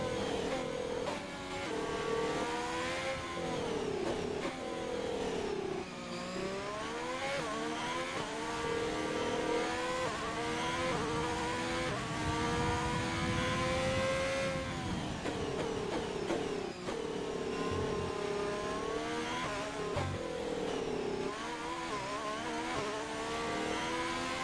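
A worn Formula 1 race car engine in a racing video game drones loudly and continuously, its pitch climbing and falling through repeated gear shifts with no voices over it.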